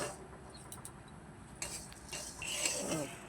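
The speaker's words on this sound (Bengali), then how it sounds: "আমি এবার এটাকে জোরেই ফ্লেমে বারবার নেড়ে নেড়ে এটা লাল লাল করে নেব" Moong dal fried in a pan over a high flame and stirred repeatedly, giving soft scraping and light clinking of the spoon against the pan, faint and close, with no voices.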